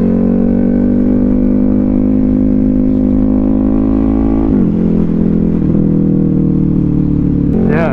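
KTM 1290 Super Duke R motorcycle fitted with a Rottweiler intake idles loudly and close, a deep throbbing rumble that dips and shifts pitch midway before a brief rise at the end.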